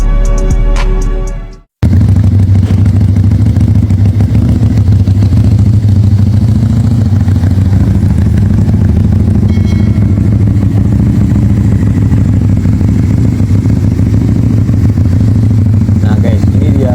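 A Keeway V250 motorcycle engine runs at a loud, steady idle with a deep, continuous rumble after a brief opening moment of other sound.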